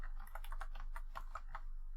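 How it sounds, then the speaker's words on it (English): Rapid close keystrokes clatter across a computer keyboard, likely an Epomaker set to Swedish layout, a steady flurry of light clicks with a few sharper taps and no voices. "Keyboard."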